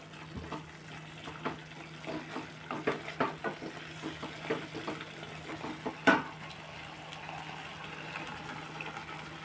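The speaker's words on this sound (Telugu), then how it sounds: "కలిపేసి కొంచెం వాటర్ వేస్తాను." Curry being stirred in a pan after water has been added, with a run of soft scraping and splashing strokes, a brief louder clatter midway, over steady kitchen background.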